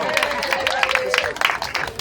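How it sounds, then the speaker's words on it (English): A Hawaiian luau audience applauds, with quick, dense clapping close by and steady for about two seconds, while a drawn-out whoop or voice-like tone runs through the cheering. "Please welcome him with a round of applause."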